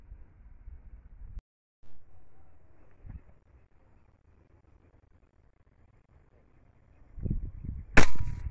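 A single sharp shot from a PCP air rifle (Leviatã) near the end, fired outdoors at night while hunting cavy, preceded by quiet rustling and faint handling noise.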